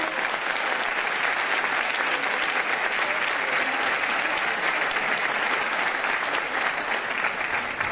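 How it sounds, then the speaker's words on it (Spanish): Audience at a conference session gives loud, sustained applause, dense and even clapping from many hands with no pauses from start to finish. "quiero que le demos a Amelia y a todo el equipo de la Defensoría un fuerte aplauso por este maravilloso espacio"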